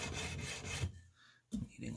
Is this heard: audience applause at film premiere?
no